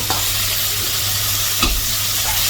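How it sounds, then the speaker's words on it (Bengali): Fish sautéing in a pan for a vegetable curry, a steady broad sizzle and frying hiss with occasional stirring scrapes, close and continuous without talk. "আগে মাছটা কষায় রাখবো"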